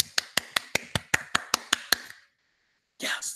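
Sharp rhythmic claps ring out about ten times at an even pace, then stop. After a short silence, a burst of louder noise begins.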